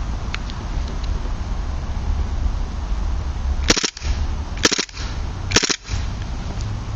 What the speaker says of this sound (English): here's the 3-round feature it has going on